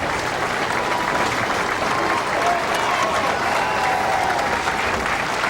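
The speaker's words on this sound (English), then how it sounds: "Great round of applause." Sustained applause from the audience at a 1995 national bowling championship, a dense steady wash of many hands clapping throughout, loud and continuous with no talk.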